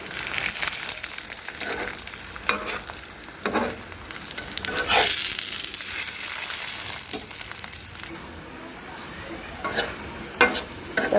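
Parathas fry in oil in a pan with a steady close sizzle, broken by repeated spatula scrapes and turning sounds that come in irregular bursts.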